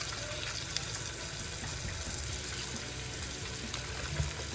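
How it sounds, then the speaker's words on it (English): Chicken stock poured into a pot of Greek bourgouri on the stove makes a soft, steady liquid rush that runs evenly from start to finish at a low, close level, with no talking. "We're going to add our chicken stock."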